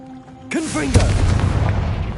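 A Confringo fire spell blasts in Hogwarts Legacy: a sharp, booming explosion right after a shouted incantation, then a rumbling tail that lingers under continuing chatter.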